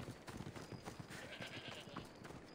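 Goats in the ancient Greek open world of Assassin's Creed Odyssey give a bleat over busy game ambience, with a brief tonal call rising midway through the stretch of steady background sound.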